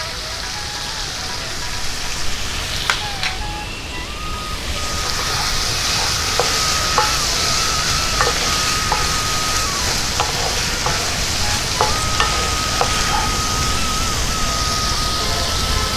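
Snake gourd chorchori cooking in a pan with Kashmiri chili powder, a continuous dense sizzle like rain on a surface, punctuated by occasional spatula taps and scrapes, close and steady.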